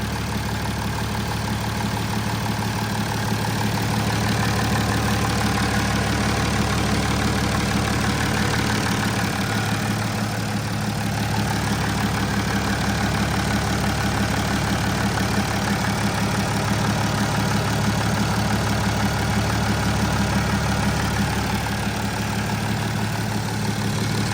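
An old loader's diesel engine idles steadily and loudly up close, a constant low rumble with a faint rattling knock running through it for the whole stretch.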